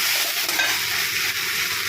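Okra sizzles and fries steadily in a hot pan while being stirred, with a dense, loud, continuous crackle throughout.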